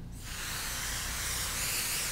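An aerosol spray adhesive can sprays onto foam batting in one continuous hissing burst that starts abruptly and holds steady, close by with no voices.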